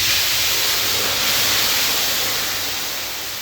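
Bottle gourd curry hitting hot fried garlic tempering in a pan, a loud, close, continuous hissing sizzle that starts at full strength and eases slightly toward the end, with no talking.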